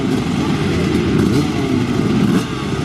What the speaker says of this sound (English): The classic roar of the two-stroke engine.